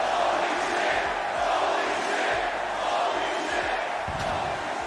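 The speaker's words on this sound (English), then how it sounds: "this authentic crowd noise that they have built into the game" Crowd noise captured at live AEW wrestling events and built into the video game AEW Fight Forever: a continuous, loud, roaring arena crowd with scattered thuds and impacts underneath, steady throughout.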